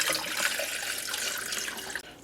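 Tap water runs briefly into a cup for cooking rice, a steady bright splashing stream that cuts off near the end.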